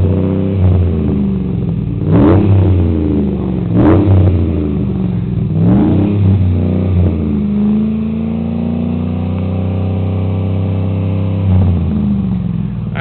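A 2011 Chevy 3500 pickup with a Magnaflow 3.5-to-4 inch muffler, 4 inch tailpipe and 5 inch tip revs several times in bursts, deep and loud, then settles into a steady rumbling idle with one last blip near the end.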